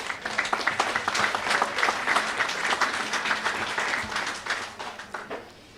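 Crowd applauding at an outdoor handing-over ceremony for new homes in Geneva, Grand Bay: individual claps stand out within moderate, steady clapping that thins toward the end.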